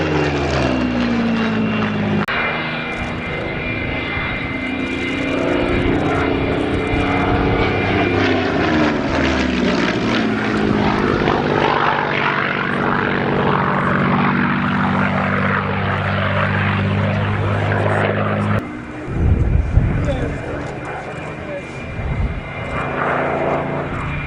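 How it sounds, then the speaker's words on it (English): A Supermarine Seafire LF-3C propeller fighter flies past at an airshow, its piston engine droning loud and close with a rising and falling pitch as it passes, then fading under wind buffeting. "Here comes the Seafire"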